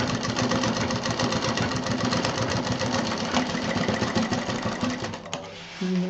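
A sewing machine stitches in a zip on a clutch bag decorated with beads and small bells, a fast rhythmic mechanical clatter close by that slows and stops near the end.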